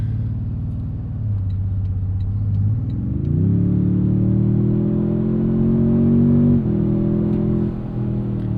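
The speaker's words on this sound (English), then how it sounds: "all you hear is that exhaust." A 2026 Toyota Tundra TRD Pro's deep exhaust, twin-turbo and tuned to 466 hp, drones steadily while driving, rising in pitch as it accelerates midway, then settling into a loud, continuous rumble.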